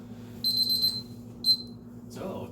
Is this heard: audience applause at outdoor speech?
no